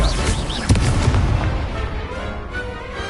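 In a Hogwarts video game duel, an Incendio fire spell goes off as a sharp, loud burst that swells and crackles, then decays into a rumbling roar that slowly fades, with a voice briefly heard at the start.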